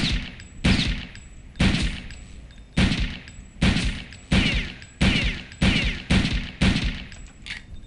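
MP40 submachine gun in Return to Castle Wolfenstein firing about ten short bursts in a steady rhythm, loud and close, each burst cut off sharply before the next.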